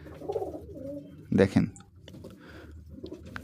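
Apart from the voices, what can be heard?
pigeons cooing while eating together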